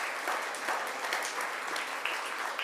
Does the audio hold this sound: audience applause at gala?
yes